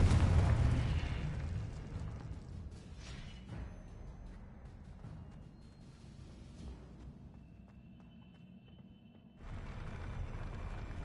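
A magical Confringo blast in a video game: a loud boom that opens the clip and decays into a long rumbling tail, followed later by a second surge of crackling noise.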